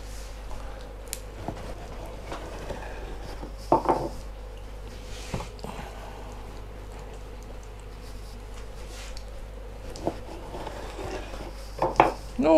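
A knife cuts fresh pork meat on a board, giving sparse, faint knocks and taps against a quiet room hum.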